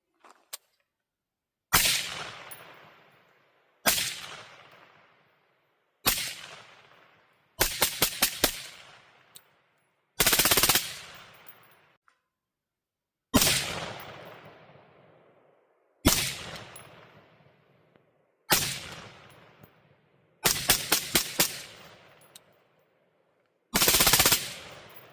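Gunfire through a Dead Air Sierra 5 suppressor during a flash test outdoors, loud suppressed shots in separated bursts, single reports mixed with quick strings of three or four, each ringing off before the next.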